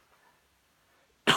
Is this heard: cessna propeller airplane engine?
no